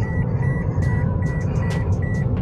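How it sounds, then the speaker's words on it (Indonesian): A repeated electronic seatbelt warning beep chimes in a steady rhythm inside a moving 2010 Toyota Vios Limo ex-taxi, over a low engine and road rumble. "Ini bunyi alarm seatbeltnya masih bunyi ini"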